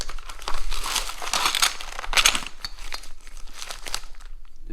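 A plastic package of anti-roll bar kit parts is torn open and crinkled on a floor, a loud, close run of crackling and ripping that lasts several seconds with no talk.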